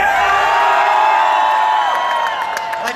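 A festival audience at Mera Luna 2018 roars and cheers before a concert, a dense, loud crowd wash holding steady for the whole stretch with scattered whoops and shouts rising near the end.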